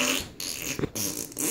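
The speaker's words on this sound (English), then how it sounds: "I think I need a fart right now" A loud, buzzy fart sound plays up close in a few broken bursts with brief gaps between them, and no talking over it.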